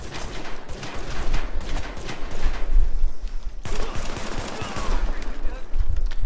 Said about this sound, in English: as they're shooting you, you can take a pretty fair amount of damage